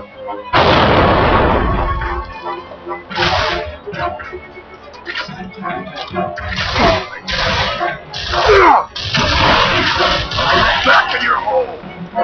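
A frag grenade goes off in Gears of War, a heavy booming blast followed by a rapid chain of gunfire and impacts from the battle, with a voice talking over the chaotic combat.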